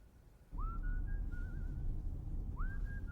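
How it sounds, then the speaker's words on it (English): A person whistles a short, bright melodic phrase, pausing briefly before starting again, heard near and clear over a low rumbling background. "You are whistling."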